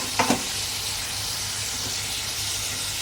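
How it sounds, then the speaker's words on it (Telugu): A lid set onto a pan of cooking chicken lands with one brief clack near the start, followed by a steady, close hiss of sizzling underneath that continues unchanged. "ఇప్పుడు దీన్ని మనము మూత అనేది పెట్టేసుకుందాం"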